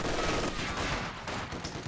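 Machine gun fire in a Company of Heroes 2 match, a dense continuous rattle of shots at moderate distance, fairly quiet, with no talk over it.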